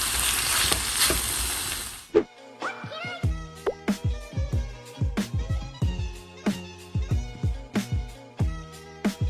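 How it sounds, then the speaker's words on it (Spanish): Beef tongue fries slowly in a little oil over a low flame. A brief hiss at the start gives way to a long run of sharp, irregular spits and pops, close by, with no talking. "Aquí la voy a freír en un poquito de aceite. La voy a poner a flama bajita."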